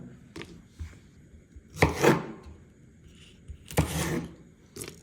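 A knife slits green chillies lengthwise on a cutting board, giving a few separate scraping, dull slicing strokes with quiet pauses between them, close and fairly loud.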